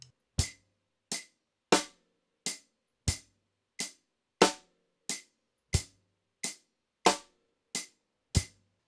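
Twelve sharp percussive clicks in an even pulse with a subtle swing, a loped beat with 15 subdivisions, each hit short and crisp against silence.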